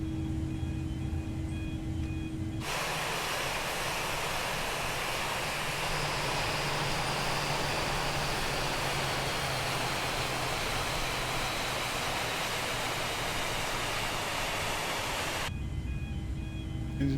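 Engine one of an Airbus A320 powering down in Microsoft Flight Simulator, heard as a steady, loud broadband roar that holds level for about thirteen seconds between quieter cabin hum at start and end.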